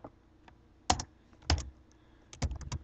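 Typing on a computer keyboard comes through as scattered clusters of crisp, close key clicks, a few isolated taps followed by a faster burst at the end.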